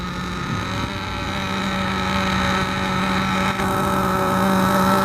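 A Team Losi 8 nitro RC buggy engine runs continuously during break-in, a loud, steady, buzzing drone with a slight rise in pitch toward the end.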